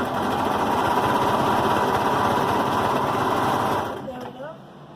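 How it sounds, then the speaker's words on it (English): A Brother 1634D serger stitches a seam on a dog sweater with a fast, steady mechanical whirring hum for about four seconds, then winds down and stops. "I'm going to sew it all the way up to the arm."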